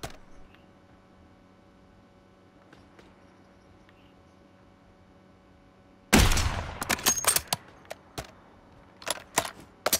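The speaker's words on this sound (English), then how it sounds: "Who the fuck is shooting us?" Gunfire in the Warzone battle royale shooter breaks out after a long near-silent stretch, starting with a loud burst and followed by a string of sharp, irregular shots and crackling volleys at close range.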